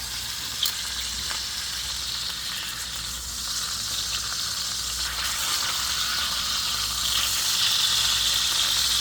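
Fish fillets fry in a pan at a lower temperature, making a steady, close sizzle that grows slightly louder over time, with no voices.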